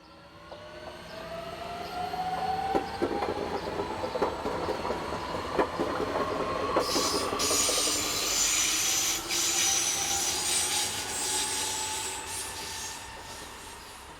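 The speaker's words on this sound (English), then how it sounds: "440, 512 and 523 have arrived with the 1441 from Würzburg to Treuchtlingen" Electric multiple units 440, 512 and 523 arrive at a German station on the service from Würzburg to Treuchtlingen, with a rising motor whine, rumbling wheels, rail clicks and loud brake squeal as they slow alongside.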